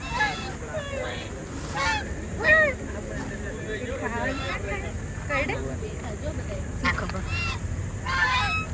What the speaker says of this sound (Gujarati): અને અહીંયા ઓરિજિનલ હંસ છે.